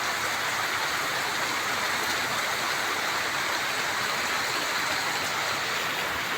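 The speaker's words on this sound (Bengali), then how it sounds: "অসহ্য গরমে যে বৃষ্টিটা হচ্ছে" Steady rain falling after a spell of intense heat, a dense, even hiss of drops pattering on surfaces, constant and close with no breaks and no voices.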